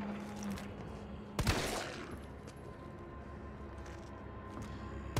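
Combat sounds from the video game Resident Evil 3 Remake: a single sharp, loud shot stands out against a low, murky background of game ambience, with a few faint clicks and thumps scattered around it.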